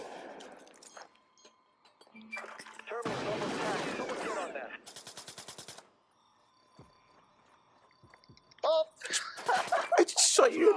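Gunfire in Splinter Cell: Blacklist Spies vs. Mercs multiplayer, a short burst of rapid shots between stretches of quiet and game sounds, with a player talking over parts of it.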